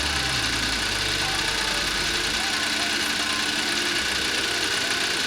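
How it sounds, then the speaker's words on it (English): A Cadillac CT5 350T sits idling, its engine giving a steady low rumble with a faint uneven knock. The hum drops slightly partway through and then holds steady to the end. "So this is just running an idle."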